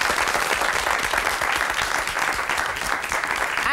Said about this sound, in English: now we're going to ask you to go back behind our screen to this round of applause